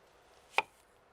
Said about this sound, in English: we mince the onion and the hard-boiled egg white